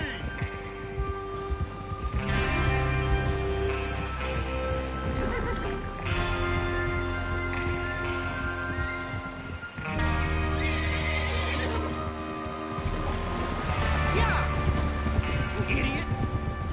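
Horses gallop in Red Dead Redemption 2 with rapid, heavy hoofbeats and snorts over a steady music score, loud and continuous with a brief lull midway.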